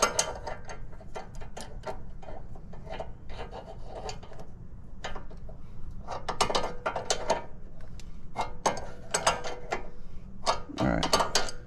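A ratchet tightening a castle nut on the lower ball joint of a Lexus GS300/GS400, producing repeated rapid clicking strokes in bursts, close and fairly steady, with metallic rubbing between pulls.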